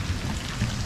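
Heavy rain pours down in a thunderstorm, flooding a side street near a camper van, with a steady loud roar of water and low rumbling throughout.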